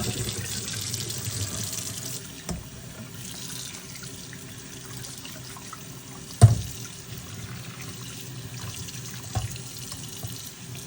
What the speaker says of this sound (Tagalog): Naka-frozen pa siya. Hugasan ko lang to.